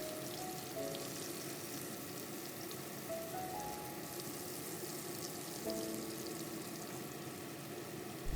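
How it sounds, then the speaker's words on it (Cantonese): Fish fillets pan-fry in oil for a sweet-and-sour pineapple fish dish, giving a continuous loud crackling sizzle with scattered spits and pops, close and steady with no voices. "煎到金黃色就反轉，另一面都係煎差唔多1分鐘。"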